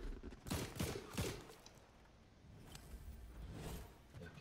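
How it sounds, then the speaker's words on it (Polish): Several sharp gunshot cracks in quick succession from Fortnite, fairly close, followed by a steady noisy wash with a couple of fainter distant shots. "Jakieś strzały blisko."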